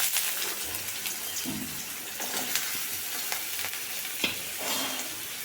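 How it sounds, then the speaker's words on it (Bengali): Small-cut, washed potatoes drop into hot oil in a preheated wok, giving a steady close sizzle with scraping stirring and occasional clicks and knocks, no voices. "এখন আমি এর মধ্যে দিয়ে দেব ধুয়ে ছোট করে কেটে রাখা আলুটা"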